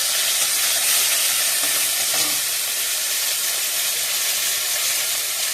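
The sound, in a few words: onion, garlic and ginger frying in hot oil in a wok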